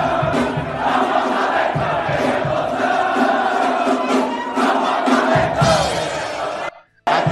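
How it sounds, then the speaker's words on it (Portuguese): A stadium crowd of Ceará football supporters in Fortaleza chants loudly in unison, a dense roar of massed voices for about seven seconds before cutting off abruptly. "Vozão é a torcida, né, lá na cidade de Fortaleza, torcida do Ceará."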